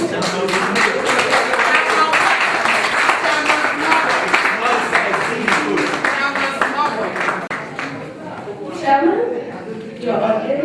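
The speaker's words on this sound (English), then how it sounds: "with a hand of applause, let's welcome the chairman for this" Audience applause at a Ghana National Association of Teachers municipal conference welcomes the chairman, with dense, sustained clapping that swells and fades over about ten seconds.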